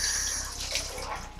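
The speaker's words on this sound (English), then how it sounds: "When you get here, pour the water into the basin." Water is poured steadily into a basin during a foot-care skills demonstration, a continuous close splashing rush with no talk.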